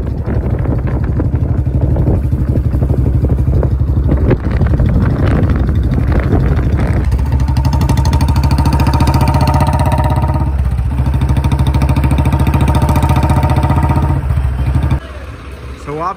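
A new John Deere 5050D 4WD tractor engine runs loudly up close, a steady rough drone with wind buffeting the microphone throughout.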